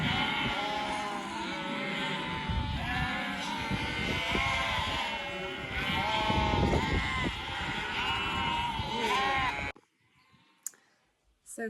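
Sheep bleat repeatedly during June shearing on a livestock farm, with loud, overlapping calls and clicking shears close by, before the noise drops away abruptly near the end.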